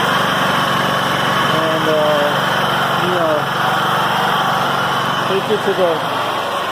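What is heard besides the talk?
Wen 625i inverter generator running at low RPM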